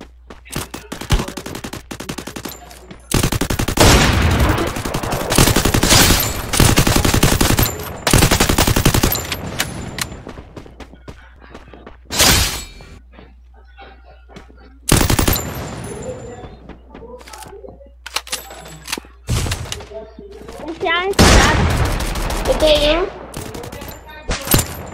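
Gunfire in the Free Fire video game: repeated bursts of automatic fire and single shots, loud and close, broken by short gaps over about twenty-five seconds, with a few faint voices between bursts.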